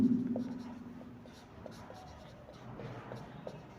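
Writing during a Class 12 physics lesson on diffraction numericals gives soft, close scratchy strokes in short bursts while a teacher speaks in Hindi.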